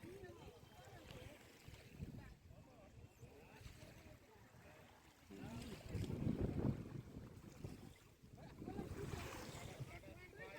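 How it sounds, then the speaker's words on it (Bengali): Sea waves wash and surge at Maldar Digha in Vatra, a steady roar that swells louder in two strong bursts, mixed with gusty wind buffeting the microphone and voices talking nearby. "তার একটা ভালো ঢেউগুলো ক্যাপচার করে নিই"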